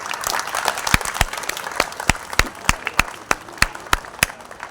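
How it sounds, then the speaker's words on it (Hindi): Applause for teachers at a nursery school Republic Day program: scattered hand clapping with a few sharp, loud individual claps standing out in a steady rhythm near the end, no speech. "एक बार तालियां तमाम टीचरों के लिए।"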